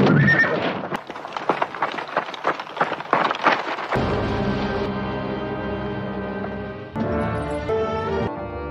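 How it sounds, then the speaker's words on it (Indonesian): A horse neighs loudly in a war film about Libyan guerrillas fighting Italian fascists, with a long, shrill whinny standing out over clattering hooves and a dense battle soundtrack. "kuda Omar berhasil dijatuhkan"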